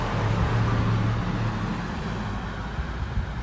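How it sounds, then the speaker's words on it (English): A car drives past on a road, captured on an iPhone's built-in microphone as a broad, steady rush of road noise that eases slightly as it goes by, with no talking. "we're going to even let a car go by just so you can hear the difference"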